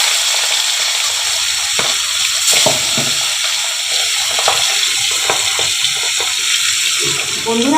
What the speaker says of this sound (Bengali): মাছগুলো কিন্তু বেশি ভাজা চলবে না, হালকা করে ভাজবো